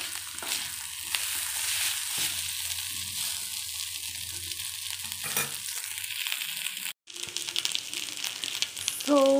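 Rice sizzles and fries in a pan on low heat while being stirred for okra rice, a steady crackling hiss with scraping sounds and a brief cut partway through.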